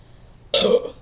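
A single loud, close burp erupts suddenly after a moment of quiet and lasts about a quarter second.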